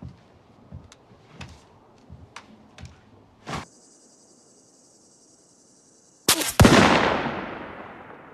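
A rifle fires a single loud, sharp shot near the end, its report decaying into a long ring, after soft clicks and handling sounds and a steady tone.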